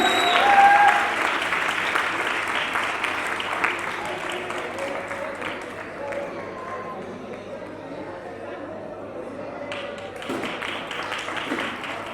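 An audience at a 2021 annual prize distribution ceremony claps steadily to welcome a student on stage, a dense, continuous patter of hands filling the room, louder at first and then settling, with a voice speaking over it.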